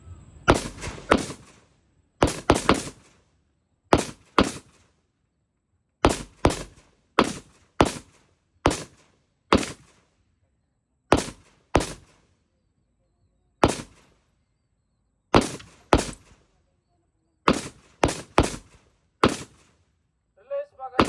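Rifle shots during a marksmanship training range session, sharp loud cracks fired singly and in quick clusters of two or three, irregularly spaced over about twenty seconds with silence between.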